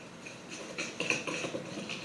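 An egg is stirred into brownie batter in a bowl, giving soft, faint clinks and scrapes of a utensil that build slightly toward the middle, close by with no talking.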